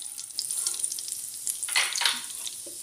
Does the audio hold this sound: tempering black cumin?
yes